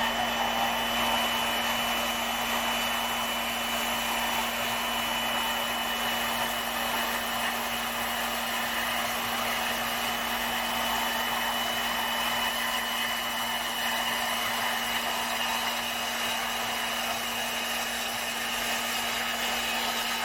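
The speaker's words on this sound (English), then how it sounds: "I'm going to end up having to grind off a bunch anyway." Metal on a small trailer being rebuilt is ground down, making a loud, continuous, unbroken grinding whine with a steady hum that lasts about twenty seconds, with no talking.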